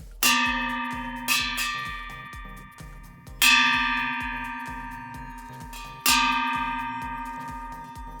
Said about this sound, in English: So a lovely bell and the end of it. So let's give it a whack.